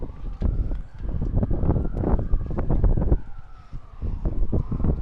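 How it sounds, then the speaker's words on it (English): Strong wind gusting across the microphone at an outdoor ballpark, a loud, rumbling buffet that surges and eases continuously throughout. "Oh, Mike, you can hear the wind out there."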